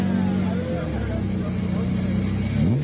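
A BMW E46 M3 runs a hill-climb at Speed Classic Cape Town, its engine a steady droning rev with rising pitch sweeps toward the end, heard beneath a commentator's voice.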